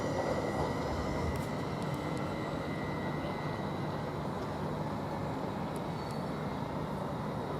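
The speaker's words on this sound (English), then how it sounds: "Now this Great Wrangler service from Norwich to Stansted Airport, 11:31, leaving at 11:32, just now leaving." A Greater Anglia passenger train on the Norwich to Stansted Airport service pulls out of Ely railway station, a steady loud rumble of rolling wheels and engine with faint high squeals from the rails.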